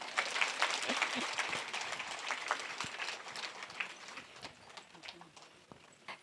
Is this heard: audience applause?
yes